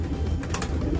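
Pigeon in a racing pigeon loft, a Jansen bloodline cock bird ready for pairing, cooing softly with a steady low rumble filling the short moment, close by and without talk.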